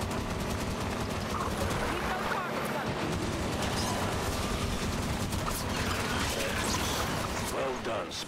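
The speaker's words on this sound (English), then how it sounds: "That knight's got a scatter shot. Watch the spread on that." A Knight in Halo 5 fires a scattershot amid a dense, unbroken barrage of battle gunfire and blasts, loud and close, with the rattle of shots running steadily throughout.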